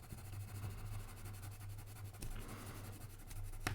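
Colored pencils scratch steadily across paper as a shape is coloured in with alternating blue and red, a soft, continuous, close rasp with a low hum behind it.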